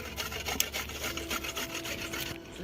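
Ginger being grated by hand for a village-style mutton curry, with quick rasping strokes scraping close and loud against the grater.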